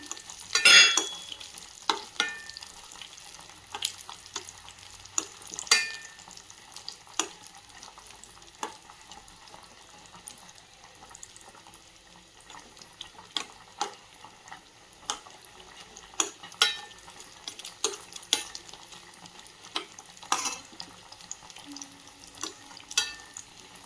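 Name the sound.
roasting ingredients in a pan until golden brown, pongal recipe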